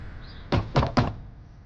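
Someone knocks on a door three times, quick, solid wooden thuds close by against a quiet background, with no voices.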